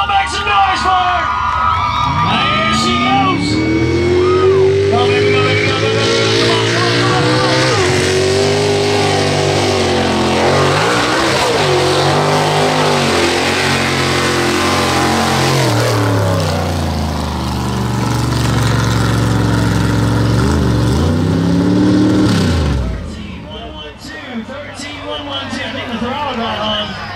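A mud bog truck's big engine roars and revs continuously at high volume, throttle stuck open, while a crowd cheers and shouts, then the engine cuts off abruptly near the end.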